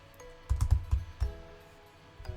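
Close computer keyboard typing on a trading-bot setup screen: a quick cluster of keystrokes, a short pause, a few more taps, then a final single click, with no speech.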